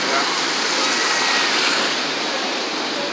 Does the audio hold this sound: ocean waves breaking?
yes